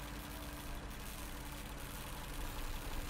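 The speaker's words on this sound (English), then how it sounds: "Judging by the engine noise and the smell, there are diesel generators in this shed." Diesel generators run inside a shed in the Lost Horizon video game, giving a steady, dense engine drone that holds at an even level throughout with no pauses.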